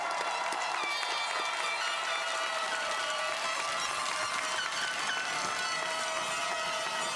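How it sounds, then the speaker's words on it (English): Loud, dense applause and crowd noise fill the hall at the Weslaco East High School class of 2024 graduation ceremony, a sustained roar of clapping with no pause. "A big round of applause"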